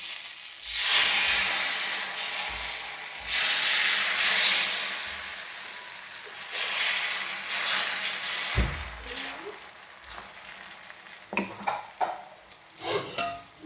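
Thin, watery multigrain neer dosa batter sizzles on a hot griddle in loud, broad hissing bursts. Toward the end come lighter clinks of utensils and a pan.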